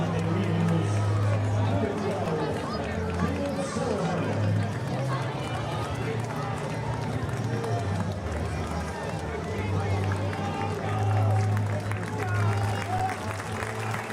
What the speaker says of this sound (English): The Caravan faithful standing in applause.